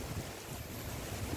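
Strong typhoon wind from Typhoon Kristine blows over Tagaytay in a steady, roaring rush that buffets the microphone. It stays loud throughout, with no voices.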